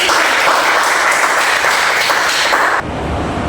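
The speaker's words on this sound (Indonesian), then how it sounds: "Kita beri tepuk tangan untuk Sedeti" Schoolchildren in a classroom give a round of applause for a classmate who answered correctly, dense close clapping that cuts off sharply near the end into quieter room noise.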